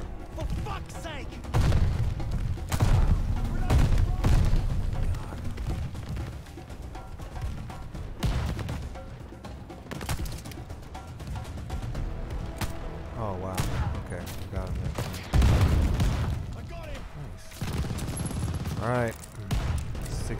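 Bursts of rifle and machine-gun fire from a World War II battle at El Alamein in Call of Duty Vanguard crackle loudly and repeatedly throughout, mixed with explosions and someone talking over the combat.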